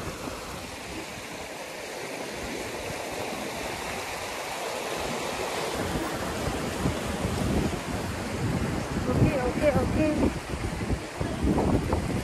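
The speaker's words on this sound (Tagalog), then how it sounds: "Ito yung parang tubig na maalon siya." Choppy water at Pinatubo rushes and churns continuously, growing louder and rougher toward the end, mixed with wind buffeting the microphone; a voice briefly speaks.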